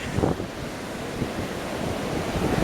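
Ocean surf with strong wind buffeting the microphone, a loud, steady roar of waves and gusts up close, with no talking.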